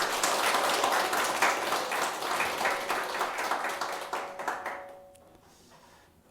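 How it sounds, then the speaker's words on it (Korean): Congregation clapping during a Sunday church service: vigorous, many-handed applause that gradually thins and fades out toward the end, with a soft sustained keyboard tone beneath it. "우리 하나님께 감사와 영광의 박수 올려드리겠습니다"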